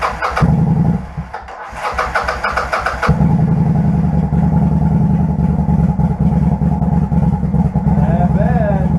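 A motorcycle engine starts and runs loudly up close, its revving held back as it fails to take throttle, settling into a steady rough drone with a brief voice heard partway through.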